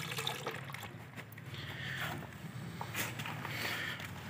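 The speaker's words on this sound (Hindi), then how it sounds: "इसको पानी से अच्छी तरह वाश करके ताकि इसमें से जो राख है वो ख़त्म हो जाए।" Mobile phone parts being rinsed of ash residue in water, a steady low sloshing and trickling with faint handling clatter throughout, no voices.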